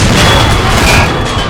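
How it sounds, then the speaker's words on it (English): Artillery fire in a toy war video game: a loud, dense rumbling barrage of booms that runs continuously throughout, with no clear gaps between the blasts. "The artillery!"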